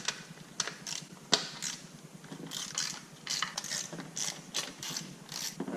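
A ratchet clicks in quick, close bursts, loosening 10mm coil rail bolts on a C5 Corvette engine, with short pauses between runs and no talking.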